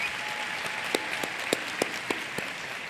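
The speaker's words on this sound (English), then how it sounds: "Let's give them a warm round of an applause." Warm applause from an audience at a university academic opening and first-year welcome ceremony, a steady wash of many hands with a few sharper claps standing out near the front.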